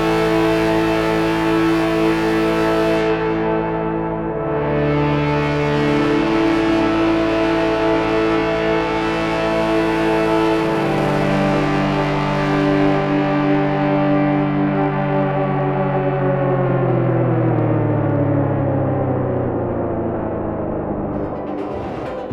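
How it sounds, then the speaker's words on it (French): Gamechanger Audio Motorsynth MKII synthesizer, its electric-motor sound sources producing a raw, harmonically rich drone that slides in pitch as the motor speeds change, playing loud and continuous with no talk. "Les deux sources magnéto-optiques vont apporter un son assez brut et organique qui va intégrer un slide naturel lié au changement de vitesse de rotation des moteurs"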